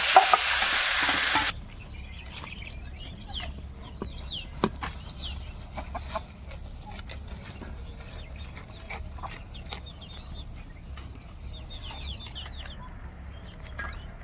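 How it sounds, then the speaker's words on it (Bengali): Lentils fry in a pan with salt and turmeric, a low sizzle with frequent scraping and stirring clicks, while chickens cluck faintly nearby outdoors after a brief loud burst at the start. "একটু মাপ মতো লবণ হলুদ দিয়ে ভাজবো ডালটা দিয়ে দেবো চালের মধ্যে"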